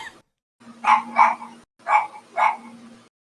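Four sharp, close dog barks in two quick pairs, loud and clear against a quiet background with a faint steady hum.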